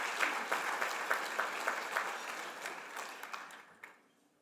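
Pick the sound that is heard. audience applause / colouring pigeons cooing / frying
audience applause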